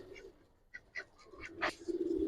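Giribaz pigeons in a loft give soft, low cooing calls in a few short bursts, fairly faint against a quiet background.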